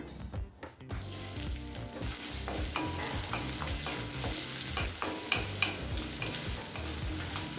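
Onion hits hot oil in a kadai, giving a close, continuous sizzle with stirring clatter and scraping throughout after a brief quiet start.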